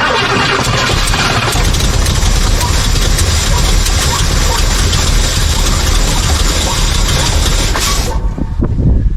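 Old 7.5 litre engine that had sat unused for over 20 years, cranking and catching into a loud, rough, steady run close by, then cutting off abruptly near the end.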